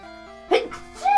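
A single close, sharp human sneeze bursts over faint electronic tones from a Pokémon Crystal handheld game, followed by a smaller breathy catch.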